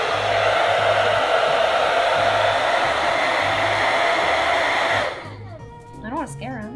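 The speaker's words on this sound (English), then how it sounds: "This is a blow dryer." A handheld blow dryer runs loud and steady for about five seconds with a broad whooshing roar, then shuts off and quiets abruptly, leaving brief soft squeaky whimpers at the end.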